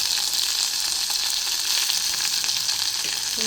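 Garlic and green chili frying in a pan for buttermilk sambar, a loud, close and continuous hissing sizzle with faint stirring scrapes, steady across the whole moment.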